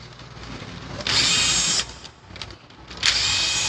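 A power driver runs in two short whirring bursts while removing the screws from a Bosch GSB 550 impact drill, loud and close, with a brief quieter pause between them.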